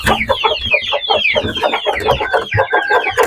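A Cyprus breed rooster and hens cluck busily up close, a dense, continuous stream of overlapping clucks and squawks.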